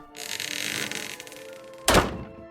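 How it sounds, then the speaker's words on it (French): A door in an abandoned house shuts with a single heavy thunk near the end, close and solid, after a sustained hiss of background noise. "La porte s'est refermée derrière nous."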